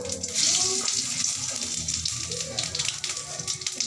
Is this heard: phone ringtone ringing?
no